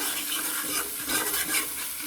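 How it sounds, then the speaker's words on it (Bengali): Fish cooking in a pan with turmeric, chili and coriander powder gives a soft sizzle under the scrape of a spoon being stirred, close and steady, with no voices. "মশলাগুলো ভালো করে কষিয়ে নিব"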